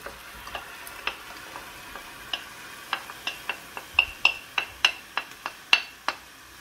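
Spoon scraping and clinking against a pot while chopped spinach is stirred into a boiling milk béchamel, a run of sharp, irregular ticks that grow louder and quicker toward the end.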